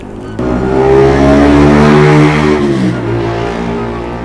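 A motorcycle passes close by outside a shop, its engine note rising and sustained with strong harmonics before dropping in pitch and fading as it moves away, heard alone without talk.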